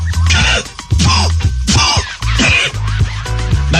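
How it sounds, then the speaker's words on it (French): Loud, harsh coughing close up, several heavy bursts in a row separated by short pauses. "je tousse"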